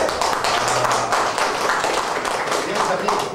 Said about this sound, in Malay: Bagi tepukan yang hebat sekali tu tuan-tuan boleh?